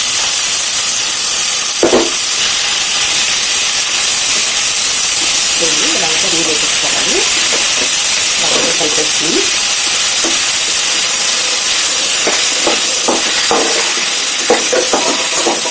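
Chopped ridge gourd pieces frying in a hot pan, a loud continuous sizzle and hiss with occasional stirring scrapes and clinks.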